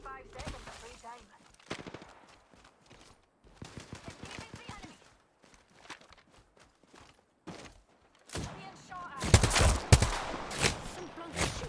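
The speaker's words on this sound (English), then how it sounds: "Some plunk is shooting at me" Video game gunfire aimed at the player, with bursts of rapid shots and single cracks between bursts of a voice talking. The shooting grows loudest and densest near the end.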